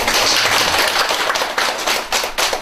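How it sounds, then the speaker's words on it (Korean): Students at a Buddhist college lecture applaud their vice dean with a loud burst of clapping that briefly dips and then picks up again. "박수 한번 주십시오."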